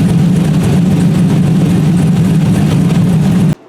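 A loud El Camino engine drones steadily at close range with a deep, constant rumble, then cuts off abruptly at the end.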